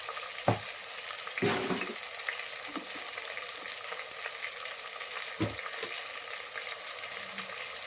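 Chili powder and ginger-garlic paste sizzle in hot oil in a pan for a Shimla mirchi (capsicum) masala curry, with a steady close frying hiss and a few sharp spoon scrapes as the mixture is stirred.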